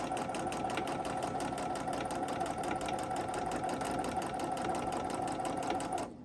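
A sewing machine satin stitching around fabric runs steadily and rapidly, its needle ticking in an even, continuous rhythm up close for about six seconds before stopping abruptly.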